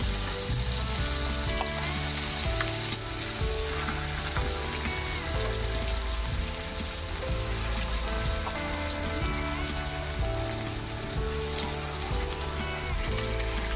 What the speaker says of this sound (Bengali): তেলটা গরম হয়ে গেছে, মাছ দিয়ে দিব।